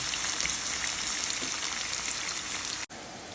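Onions frying in a pan for a beef liver curry, a steady bright crackling sizzle that runs loud and even, broken by a brief cut near the end.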